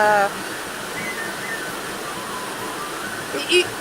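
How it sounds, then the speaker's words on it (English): A real waterfall in Ireland gives a steady, moderate rush of falling water throughout, with brief faint sounds near the start and a short louder blip near the end. "This is actually the first time in my life that I experienced a real waterfall."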